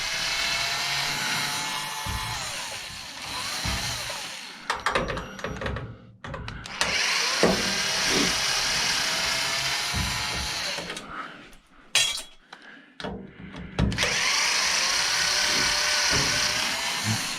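A handheld power drill whines in long bursts while backing screws out of a microwave oven's transformer, broken by short pauses, clicks and metallic clatter, loud and close.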